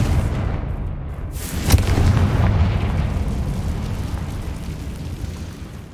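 Confringo explosive spell cast in the video game Hogwarts Legacy, a sharp crack followed by a booming blast that rolls off into a fading rumble.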